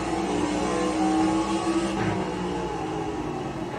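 A race car engine from the NASCAR 25 video game gives a loud, steady, dense roar that fills the whole stretch with no pause and no voices.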